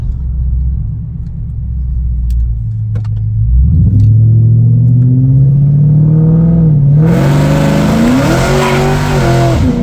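A four-door supercharged SVT Cobra roars through a loud, sustained burnout, its engine note climbing steadily as the rear tires spin, then a harsh hiss of tire squeal and smoke joins the rumble for the final seconds.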